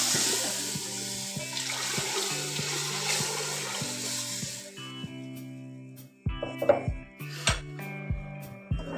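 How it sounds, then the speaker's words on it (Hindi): A buttermilk and gram flour mixture for kadhi is poured into a hot pot on the stove, giving a steady liquid pour and sizzle, followed by stirring, scraping and clinking of utensils. "अब जो लस्सी और बेसन मिक्स करके रखा है, अब वो इसके अंदर मैं डालूँगी।"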